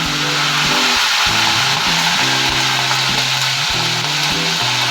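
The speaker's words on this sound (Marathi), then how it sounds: "तेलामध्ये कढीपत्ता कसा उडतोय पहा" Curry leaves splutter and crackle loudly in hot oil with mustard seeds and cumin, a constant close sizzle under a steady low mechanical drone.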